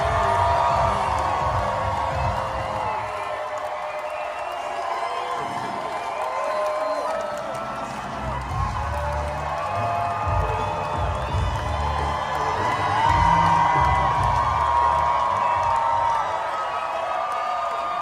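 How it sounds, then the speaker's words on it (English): A packed political rally crowd for Kamala Harris roars with sustained cheering, whoops and clapping, loud and continuous throughout, with shouting voices rising and swelling in the dense mix. "I mean, wow, that crowd was hyped up."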